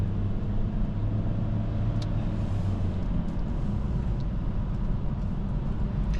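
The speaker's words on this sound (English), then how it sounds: "we're getting on the highway just to check how the car performs to getting up to highway speeds" Steady engine and road noise from inside a 2024 Honda Civic Sport accelerating onto a highway, a constant low drone with tire rumble and no voices.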